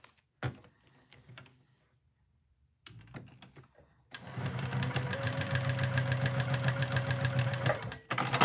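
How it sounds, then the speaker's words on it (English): A Juki TL 2000 QI domestic sewing machine starts up after a few scattered soft clicks and sounds, then runs in a fast, even, close-up rattling hum for about four seconds before stopping. "I'm sewing on my domestic Juki. It's the TL 2000 QI."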